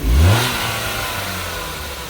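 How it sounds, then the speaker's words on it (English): A car's engine revs once at a police towing auction, a loud low surge that settles into a steady idle hum, heard alone without talk. "engine sounds really good"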